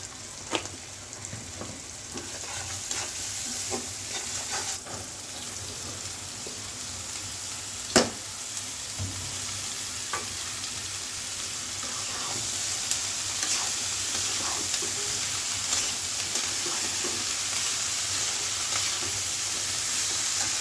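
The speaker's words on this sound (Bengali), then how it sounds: "এই যে হলুদের গুঁড়া দিয়ে দিলাম, লবণ দিয়ে দিলাম স্বাদ মতো।" Teasel gourd frying with prawns, turmeric and salt keeps up a steady close sizzle and hiss, broken by frequent sharp clicks of a spatula stirring in the pan, with no voices.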